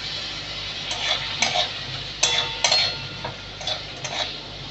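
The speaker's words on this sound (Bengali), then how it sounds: "এবার মশলাগুলো ভালো করে কষাবো।" Spices stir-fried in a pan with a splash of water for vegetarian soybean dumplings, giving a steady sizzle broken by several scraping stirs of a spatula, close and moderately loud.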